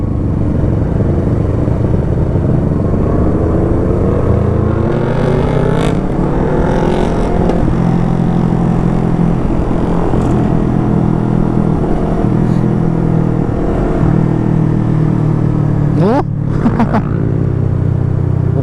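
A vehicle engine brakes on a long downhill, its drone holding and shifting pitch with low rumbling harmonics, loud and close throughout, with a brief squeal near the end.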